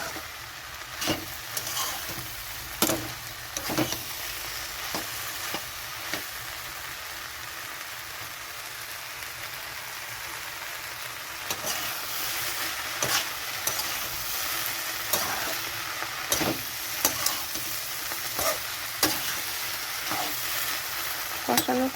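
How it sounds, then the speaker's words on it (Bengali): Malabar spinach and spices fry with a continuous sizzle in a pan while a spatula scrapes and knocks against it in irregular strokes, close up, the stirring growing busier in the second half; no talking. "একটু নেড়ে চেড়ে কষিয়ে নেব।"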